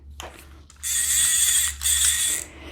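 A reel being ratcheted tight onto a Zebco rod-and-reel combo, heard as a close, steady mechanical clicking that runs in two bursts with a short pause between.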